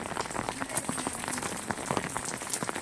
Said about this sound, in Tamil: வேறு தண்ணி சடன்னு பெய்யுது மழை.